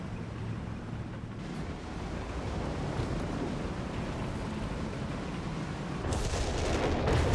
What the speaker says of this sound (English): Stuka shots landing in mid.